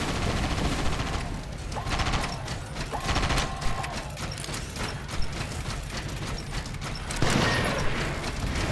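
In the video game Sand Land, a mecha fires rapid sustained gunfire to shoot down missiles, dense mechanical bursts and clatter running continuously, loud and close.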